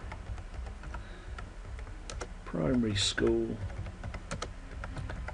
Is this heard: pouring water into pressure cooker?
no